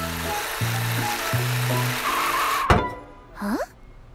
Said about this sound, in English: I can hear the bus, but I can't see it, Morphle.